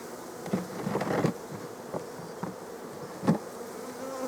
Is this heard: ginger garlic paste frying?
no